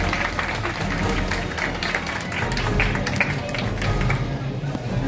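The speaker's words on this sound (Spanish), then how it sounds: "¡Fuertes aplausos! ¡Bravo!" A crowd at an avocado festival in Majes, Peru, claps and applauds steadily and densely throughout, with a few voices mixed into the ovation.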